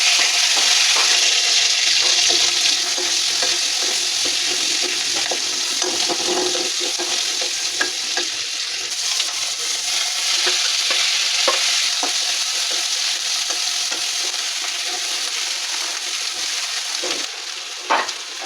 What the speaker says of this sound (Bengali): এখন আমরা তেলের মধ্যে কারি পাতা দেব।